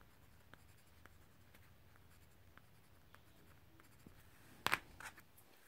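Watercolour pencils colouring on paper, soft scratchy strokes with faint ticks spread across the stretch and a louder cluster of scrapes near the end, close and quiet with no talk.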